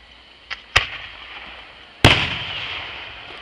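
Fireworks bursting outdoors: a light pop, then a sharp loud bang, then another big burst followed by a long crackling, hissing tail. No one speaks.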